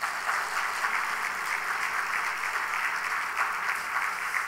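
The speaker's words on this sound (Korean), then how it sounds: "크게 박수해 주시겠습니다." Steady applause from a church congregation during a Sunday evening service, honoring a row of elders, comes as an even wash of many hands clapping, somewhat distant and soft.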